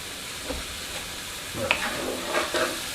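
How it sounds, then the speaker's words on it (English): Butter melting in a hot pan gives a soft, steady sizzle and hiss, with a few light stirring scrapes and small pops rising above it, quiet and close with no voices. "We got that butter melting here."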